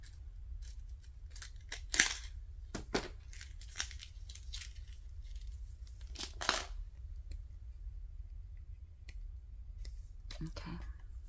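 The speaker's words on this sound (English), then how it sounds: "I'm going to go ahead and cut this off." Scissors snip a piece off a small glassine paper craft, giving several sharp, close clicking cuts spread irregularly through a quiet room.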